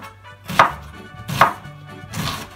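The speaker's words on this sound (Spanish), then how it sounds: "les resulta más fácil cortar así la cebolla" A knife chops through an onion on a cutting board while guacamole is being prepared, three distinct, close, moderately loud strikes spaced roughly evenly, with no talking.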